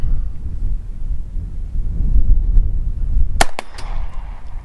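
A single sharp, loud crack from an AR-15 golf ball cannon firing a shot outdoors, cutting through steady wind rumble and followed by a brief ringing tail and smaller knocks.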